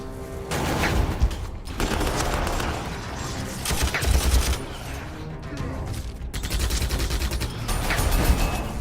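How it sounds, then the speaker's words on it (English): A Vindicator tank firing in the Warhammer 40,000 Armageddon game, amid a dense, continuous battle din of rapid gunfire and blasts that rises and falls in loud waves for several seconds, with no talk. "So we'll fire our vindicator."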